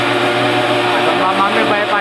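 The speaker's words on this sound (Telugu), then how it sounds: "అటైతే మిక్సీ పడతాను." A kitchen mixer grinder whirs steadily through cashews and peanuts, a loud, close, continuous droning grind with a slight wavering pitch and no pauses.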